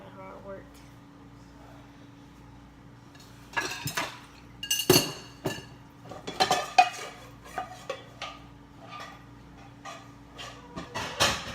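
Dishes, pots and cutlery clink and clatter in a kitchen during clean-up before baking, with sharp, irregular bursts of clanking close by after a quiet start, while a person talks.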